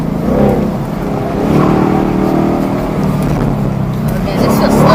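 A Ford Mustang RTR's engine drones and revs steadily through an autocross lap, its exhaust note swelling near the end, with a person talking over it throughout.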